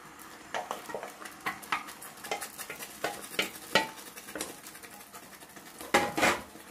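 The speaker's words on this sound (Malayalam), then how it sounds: "ഇത് നന്നായിട്ട് ഇളക്കിക്കൊണ്ടിരിക്കണം. ഇനി ഇത് ഇളക്കി ഇളക്കി ജാമിന്റെ പരുവത്തിലാക്കണം." A spoon scrapes and knocks against a pan as jackfruit pulp is stirred in hot ghee for jam. The strokes come in a steady rhythm of clinks and scrapes over a soft sizzle, close but fairly quiet, with no voices.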